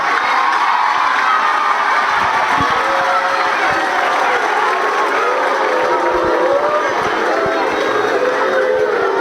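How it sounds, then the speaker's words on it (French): An audience at a school results announcement breaks into loud, sustained applause, a dense steady clatter of clapping mixed with crowd noise that carries on without pause. "On peut applaudir pour leur échec."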